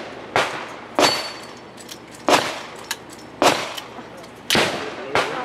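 Gunshots on a stage at a shooting competition: five loud, sharp reports, spaced roughly a second apart, each trailing into a brief echo, with fainter clinks and thuds between them.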